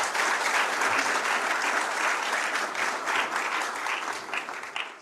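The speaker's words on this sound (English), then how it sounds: "A big round of applause for." An audience gives sustained, dense applause at a hospital's anniversary celebration, loud and steady before fading slightly at the end.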